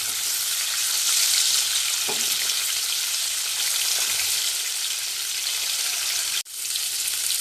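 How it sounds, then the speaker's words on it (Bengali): Hilsa fish pieces fry in a pan with a loud, continuous close sizzle, broken by a couple of faint knocks and one sudden brief dip as a piece is flipped, after which the hiss resumes. "ইলিশ মাছ হালকা ভাজতে হয়, হালকা করে ভেজে নেব। এক পাশটা হালকা করে ভাজা হয়েছে, এবার উল্টে দিচ্ছি।"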